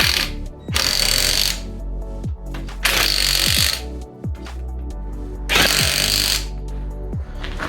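Power tool bursts while refitting a wheel on a salvage 2019 Fiat, three loud whirring runs of about a second each, separated by short pauses with clicks and clunks in a workshop.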